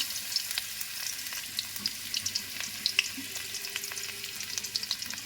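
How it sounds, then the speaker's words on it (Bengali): Chopped garlic sizzles steadily in hot oil in a pan, a continuous close crackle with fine spitting pops throughout, without speech. "আমার তেল গরম হয়ে গেছে এবার এর সাথে আমি অ্যাড করব রসুন কুচি"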